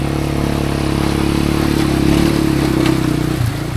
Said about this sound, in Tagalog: Tawid ilog taga ang mga motor dito sa Ilaya.